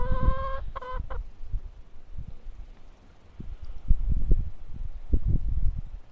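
Adler silver laying hens on a home farm, a few clear nasal clucks at the start, followed by scattered soft pecks, scuffs and movement nearby.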